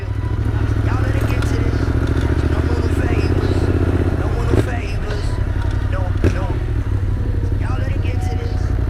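A motorcycle engine idles and revs with a steady throbbing rumble, with voices and some clattering around it, at a roadside stop.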